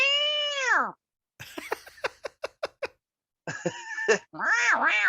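Two long, drawn-out cat meows frame a quick burst of sharp, rhythmic clicks and taps, followed by several more wavering meows, close and clear.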